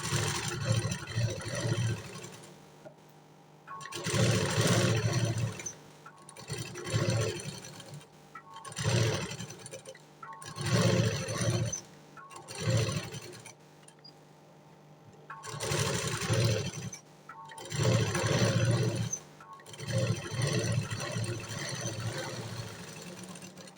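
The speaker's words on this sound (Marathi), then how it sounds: "आता आपण डायरेक्ट गळ्यावरती शिलाई मारणार आहे." A sewing machine stitching around a pinned blouse neckline, running in repeated whirring bursts of a few seconds each, separated by short pauses, close and moderately loud with no speech.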